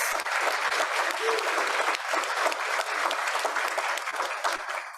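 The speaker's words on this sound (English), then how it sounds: "So I think that deserves a round of applause" Audience at a Rotary Club of Fort Worth meeting breaking into dense, sustained applause, loud and even throughout with faint voices mixed into the clapping.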